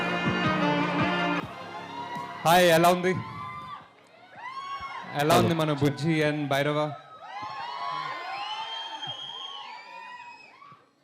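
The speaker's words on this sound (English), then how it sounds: "Come on guys, loud round of applause for Nagi." A large crowd at an animation launch event cheers, whoops and shouts loudly for director Nag Ashwin. The cheering rises in waves as an amplified voice speaks over the crowd.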